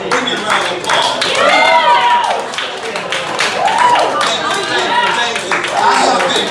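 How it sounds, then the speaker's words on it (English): Comedy club audience at an art bar claps and cheers for a stand-up comic, a steady loud wash of applause with whoops and shouted voices over it throughout. "Give me a round of applause."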